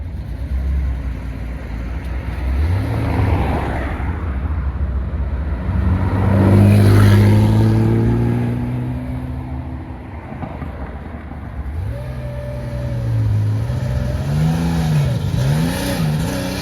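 Several Porsches, including a Red Bull-liveried one, cruise past on a street in Saint-Tropez, engines rising and falling in pitch with revs as they approach and pass, loud and close amid steady street noise.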